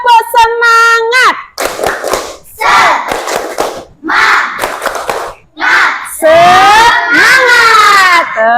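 Third-grade children in a classroom at SDN 3 Sikur perform the tepuk semangat clap routine, with short rhythmic bursts of clapping and loud group chanting in repeated segments.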